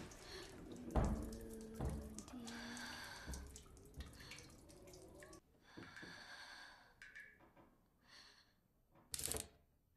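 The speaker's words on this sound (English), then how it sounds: "While this is happening, the stone chick takes a shower" A shower runs in a scene from the horror comedy film Lesbian Vampire Killers, a steady close hiss of spraying water with splashes and breathy snorts, thinning out later before a brief sharp burst near the end.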